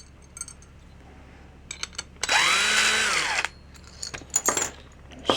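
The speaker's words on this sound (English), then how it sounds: "We've got the 7/16 nuts on the bottom of these carriage bolts. Take those off," A power drill spins off 7/16 nuts from carriage bolts on a vintage Gretsch or Camco bass drum rail, one loud whirring burst of about a second flanked by small metallic clinks and taps.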